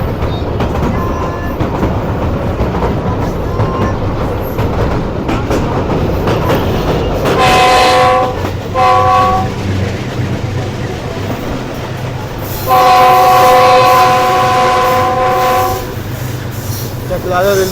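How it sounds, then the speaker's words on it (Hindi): A packed Subak Raftar passenger railcar train rumbles and clatters steadily on the tracks approaching Chaklala railway station, with its horn sounding in two short blasts and then a longer sustained blast near the end. "ये जो दोस्तों चकलाला रेलवे स्टेशन पर अप्रोच बना रही है ट्रेन हमारी।"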